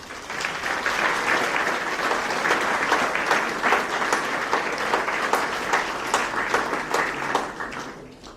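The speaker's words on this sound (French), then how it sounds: "Vous pouvez les applaudir parce qu'ils nous procurent vraiment du plaisir." A seated audience at a mayor's New Year greetings ceremony in Messanges applauds local associations and volunteers, steady dense clapping filling the hall for about eight seconds before tapering at the end.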